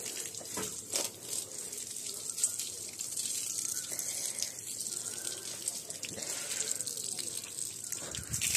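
Steady running water while a dog is bathed, a continuous broadband gush like a tap pouring, with brief faint clatters and no clear speech.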